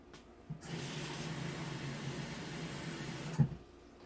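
Tap water is poured over chicken in a slow cooker, a steady hissing gush lasting about three seconds before stopping with a brief clunk, fairly quiet and close, with no voices.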